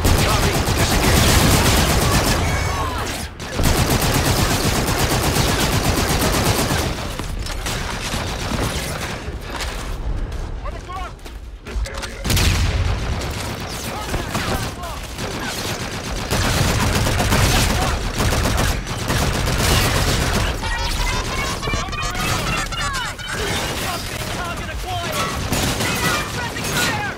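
Call of Duty Infinite Warfare gameplay brings loud, near-continuous gunfire and automatic bursts with booms and mechanical clatter, layered under game voices and a dense battle mix.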